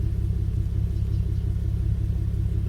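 Infiniti G37 V6 fitted with Megan test pipes idling warm, a steady low throbbing rumble with an even pulse, close and moderately loud with no revving or voices.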